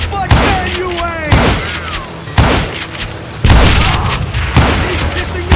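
Dynamite blasts in the western shooter Call of Juarez Gunslinger, four or five loud booming explosions about a second apart, each with a sharp crack and rumbling tail, mixed with shouted taunts between them.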